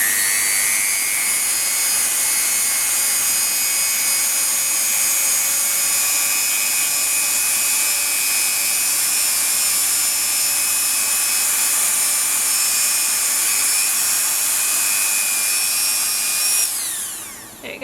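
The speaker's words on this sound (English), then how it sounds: "This is the buffing wheel I'm using, and a Dremel 3000. Now this makes a little bit of noise" A Dremel 3000 rotary tool with a buffing wheel polishes polymer clay, a loud steady high-pitched whine running unbroken for about sixteen seconds before it abruptly winds down.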